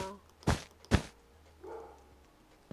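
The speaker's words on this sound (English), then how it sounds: "Sorry if my dog's barking." A pet dog indoors barks twice in quick succession, sharp and close, followed by a softer vocal sound and quiet room noise.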